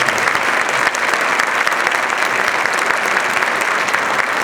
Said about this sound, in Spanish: Quiero pedirles, por favor, que nos demos un aplauso como invitados especiales.